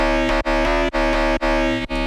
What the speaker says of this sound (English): next up after the hairy distortion is a multiband compressor, and it sounds like this